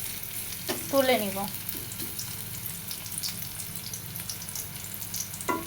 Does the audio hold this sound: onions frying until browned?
yes